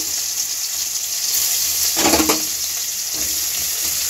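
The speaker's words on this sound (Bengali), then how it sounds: "পেঁয়াজ একটু লাল লাল করে ভেজে নেব" Chopped onion and garlic paste fry in hot oil in a kadai while a fish curry is being made, giving a steady sizzle with a brief louder burst of crackle midway, close up and with no talking.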